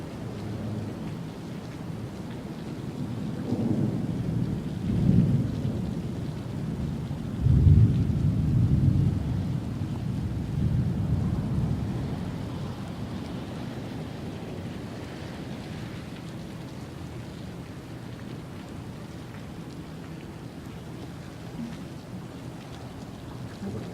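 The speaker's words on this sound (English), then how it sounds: "when lightning storms aren't being destructive, they're beautiful" Steady monsoon rain hisses throughout while deep rumbles of thunder roll in and swell, loudest in the middle stretch, with no voices.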